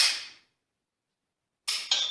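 Sharp clicks from a dry-fire trigger pull on a G-Sight Gen 3 laser trainer: one crisp snap at the start, then silence, then two quick close clicks near the end.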